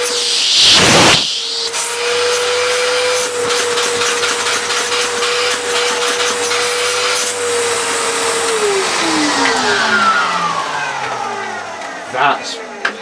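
The motor of a Hitachi Powerhouse CV770D retro upright vacuum cleaner whirs loudly and steadily, then winds down near the end, its pitch gliding lower as it stops.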